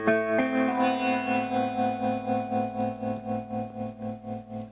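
Electric guitar on an ENYA Nova Go Sonic played through its 100 distortion amp model, a sustained saturated chord ringing out alone with steady pulsing modulation and reverb tail.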